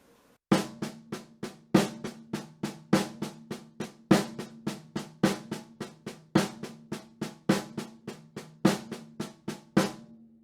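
Drum set paradiddle played with an accent on the first note of each four-note group, a steady run of sharp hits in which every fourth stroke rings louder, close and alone for about ten seconds.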